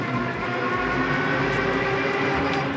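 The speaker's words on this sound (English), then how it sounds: "The motor on this thing is pretty loud." The electric motor of a two-person kids' ebike whines steadily inside a tunnel, a loud, unbroken roar with a faint high tonal edge and echoing wash and no pauses.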